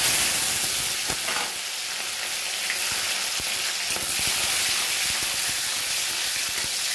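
Spices temper in hot oil alongside tomato and green chilli for a cabbage dish, giving a loud, steady sizzle with crackling pops and occasional stirring scrapes, no voices.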